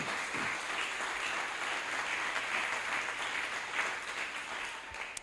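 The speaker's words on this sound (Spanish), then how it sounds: "Dele un aplauso al Rey." Congregation applause during a Spanish-language church service, a distant, fairly quiet and sustained spread of many hands clapping with no clear voices on top.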